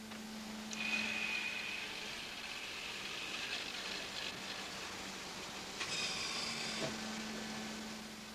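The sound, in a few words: machine cutting envelope shapes from paper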